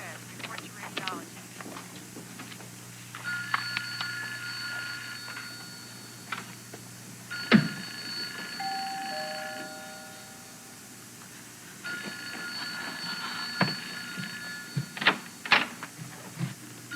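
Telephone rings repeatedly in a hospital setting, bursts of a steady electronic ringing pattern going unanswered, with faint background voices and a brief paging announcement mixed in.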